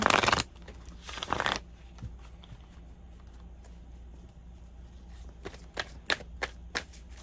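Two bursts of tarot card shuffling near the start, followed by quiet room tone and a few soft taps and clicks.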